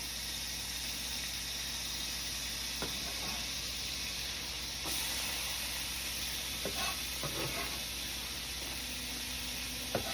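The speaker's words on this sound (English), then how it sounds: "Throw a little bit more butter in for my hibachi veggies" Butter sizzles with hibachi vegetables on a hot griddle in a steady, dense hiss, broken by a few soft scrapes and stirs, with no talking.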